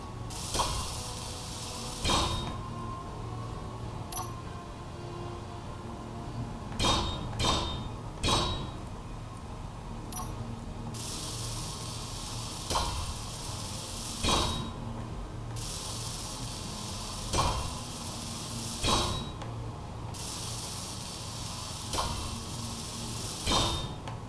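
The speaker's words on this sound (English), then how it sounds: "I do like to weld as I go, it's nice and fast" Small blocks are welded in Space Engineers, with repeated hissing, spraying bursts that start and stop every few seconds. Soft thumps land between them, and the bursts sound close and moderately loud, with no voices.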